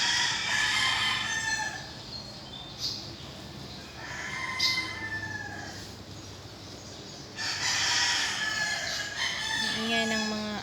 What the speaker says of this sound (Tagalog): Ingay ng mga manok dyan sa kabilang bahay.